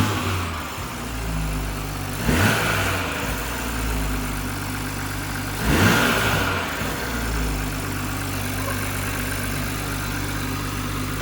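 BMW B58 540i inline-six fitted with a MAD intake, idling steadily then blipped through two sharp revs that rise and fall back to a low, even idle; close and loud with no talking.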